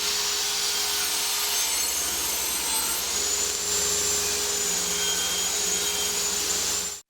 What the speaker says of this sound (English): now we're going to use the table saw and bevel both edges of our bottom to 8 degrees